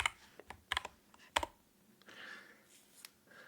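Keys clacking on a computer keyboard while entering a GrandMA2 lighting console plugin command, a few sharp close clicks in small bursts with short pauses between them, fairly quiet in a calm room.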